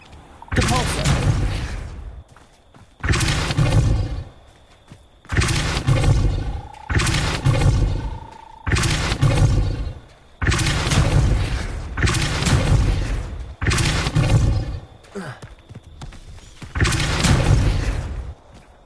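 Depulso force spell cast repeatedly in the Hogwarts Legacy video game: about eight loud, broad whooshing blasts, each roughly a second long, spaced evenly with short gaps, close and alone.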